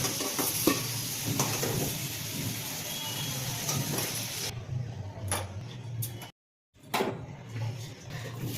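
Clattering of a utensil against a pan as potatoes fried red-brown in oil with a little salt are lifted out, a steady sizzle underneath, then a brief pause and a few sharper clinks.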